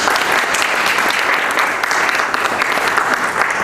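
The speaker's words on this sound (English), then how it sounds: "A bigger round of applause for our panelists," Steady audience applause at a global MICE (meetings, incentives, conferences, exhibitions) summit, honouring the panelists; many hands clapping in a dense, even wash, loud and close, with no pause.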